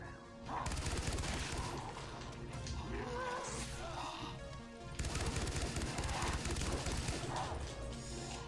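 Dense, continuous gunfire and crashing impacts fill the Far Cry Blood Dragon video game, loud rapid shots layered over a busy, noisy soundscape, with a fresh burst midway.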